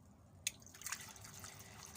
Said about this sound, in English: I just put the pump into a bucket just to give us the ambient noise